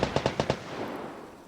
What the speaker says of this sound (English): Whenever you hear some fierce gunshots like that